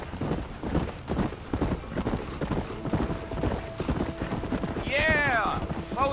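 Horse hooves clip-clopping in a steady rhythm in the Red Dead Redemption game, with a brief whinny near the end and someone talking over the hoofbeats.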